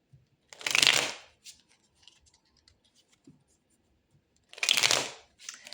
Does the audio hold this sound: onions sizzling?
no